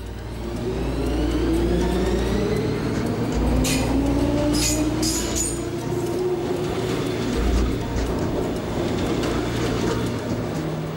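A DB Class 420 electric multiple unit from the third series, built 1976–1978, pulls away with a loud, steady motor whine that climbs in pitch. Rumbling wheel noise comes through, and a few brief squeals sound partway along.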